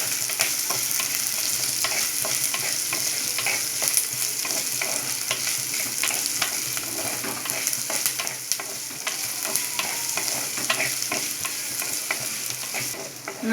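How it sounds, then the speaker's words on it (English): Onions sauté in an earthen pot over a high flame, giving a continuous close sizzle with frequent scraping, clattering stirs throughout, and no one talking. "Added my onions. Let's saute it until it becomes transparent."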